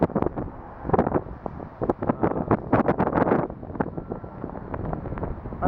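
Strong outdoor wind gusts hit the microphone in loud, ragged rumbling bursts with brief lulls in between.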